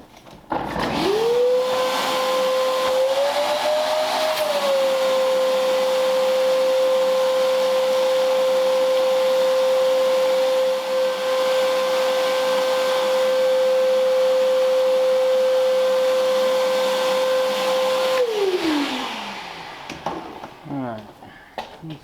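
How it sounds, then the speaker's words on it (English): A vacuum cleaner whines up to a steady high-pitched drone that runs loudly for a long stretch before spinning down and clattering to a stop. "So might get the vacuum to try and get some of this out."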